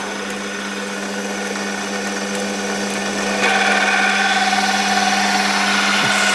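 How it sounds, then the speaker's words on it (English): A metal lathe turns slowly while knurling a workpiece for a tap wrench, giving a steady motor hum with a constant tone that steps up slightly in loudness partway through, with no talking. "Now I always do my knurling really slowly, so I'm going to slow the lathe right down."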